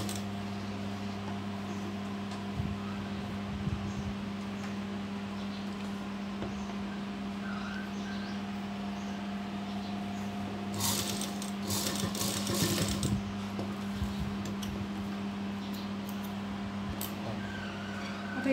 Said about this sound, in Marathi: शिवायची आहे.